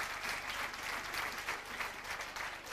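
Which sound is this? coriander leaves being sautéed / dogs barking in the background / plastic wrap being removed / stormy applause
stormy applause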